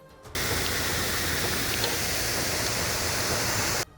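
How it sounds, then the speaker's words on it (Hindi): Heavy monsoon rainwater pours down hillsides like waterfalls onto a national highway, a loud steady broadband rush that holds constant for several seconds before cutting off. "मूसलाधार बारिश की वजह से नेशनल हाईवे पर पहाड़ों से पानी झरनों की तरह बहने लग गया"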